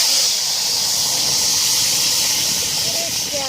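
Ground cumin paste hits hot oil for a potato dal, producing a loud, steady sizzling hiss close up that holds for the whole moment, with a faint voice near the end.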